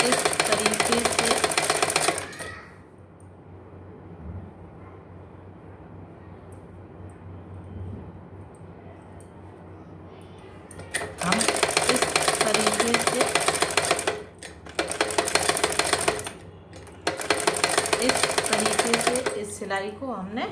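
A sewing machine stitches a hook-and-eye strip onto a blouse belt in loud, close bursts of rapid running, broken by quieter gaps where someone talks.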